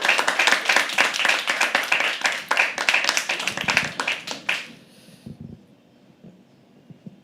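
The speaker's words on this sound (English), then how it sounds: "Can we please have another round of applause?" Audience clapping at a poetry open mic at The Habitat, a steady run of close handclaps that thins and stops after about five seconds, followed by quiet room noise.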